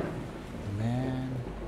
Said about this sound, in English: Man, the storm is very...